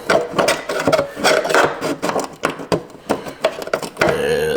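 A drill bores through cowl felt to reach a fastener while fitting a 5th gen LSA lid, giving choppy bursts of close, rattling mechanical grinding that start and stop repeatedly before a steadier whir at the end.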